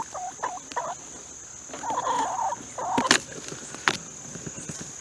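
Chickens and ducks foraging under an autumn olive shrub in a food forest, giving soft clucks, quacks and murmurs with light rustling, fairly faint and close, and a steady high insect-like whine in the background.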